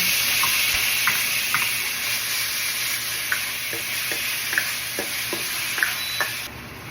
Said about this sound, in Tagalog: Itong bacon, inuluto ko lang siya hanggang sa mag-render yung fat or lumabas yung sarili ng mantika galing doon sa taba